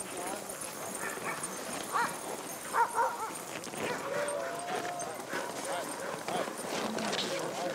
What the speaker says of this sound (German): Warten auf die Hundeteams.